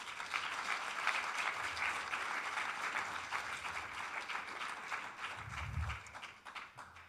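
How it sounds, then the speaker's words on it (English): Audience applause for the sponsors at the closing address of a tech conference, a steady wash of many hands clapping throughout, with a brief low thump near the end. "So first I ask for an applause for all our sponsors,"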